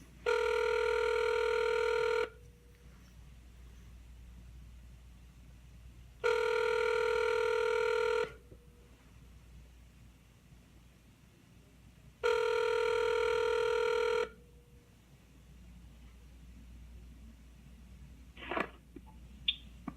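A telephone on a radio call-in line rings in three separate two-second bursts spaced a few seconds apart, clear and loud against a quiet background, with a few faint clicks near the end.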